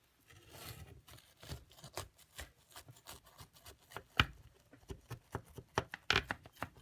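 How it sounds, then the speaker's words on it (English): Knife cutting through a pan of baked brownies into squares, a series of soft irregular taps and scrapes, close but quiet. "Now that they're done, I'm going to cut them into squares"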